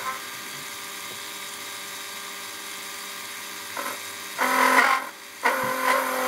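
A small metal lathe takes a light cut, its motor giving a steady whining hum that breaks into brief, louder grinding bursts near the end.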